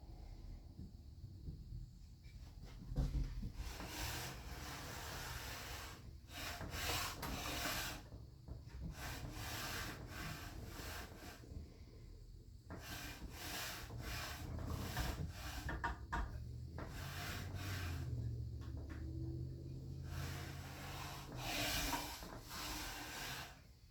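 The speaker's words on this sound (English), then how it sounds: "Still shavings jamming in the mouth." A Stanley Bailey No. 7 hand plane is pushed along wood in repeated rasping strokes, each a rough scraping burst separated by short pauses, fairly faint and close.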